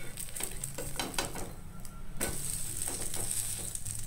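Steady sizzling of a chilla cooking in a hot pan on low flame, with a brief scraping stir partway through, close and continuous with no talking.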